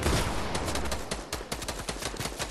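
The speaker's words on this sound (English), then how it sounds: "Now from here I can snipe." Rapid gunfire from a Fortnite match, where a sniper rifle is in use: a dense run of sharp, loud shots cracking close by, tightly spaced with a few short gaps, and no talking.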